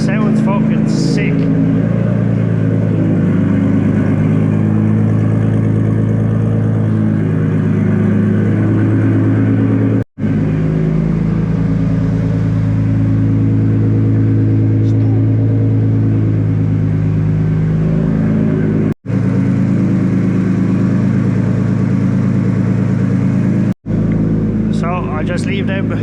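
Nissan 180SX with an RB engine revving hard on a dyno, a loud sustained harmonic roar with brief cut-outs, voices talking faintly underneath.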